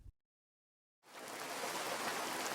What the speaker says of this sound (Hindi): लगातार हो रही बारिश ने उसकी सारी फसल